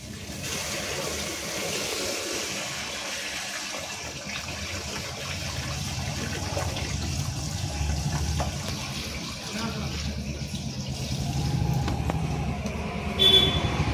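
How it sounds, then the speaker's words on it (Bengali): Dirty water from a tubifex worm container is poured out, making a steady, close splashing and gurgling flow that runs for several seconds and grows a little louder toward the end. "আমরা নোংরা যে জলটা ছিল ফেলে দিলাম"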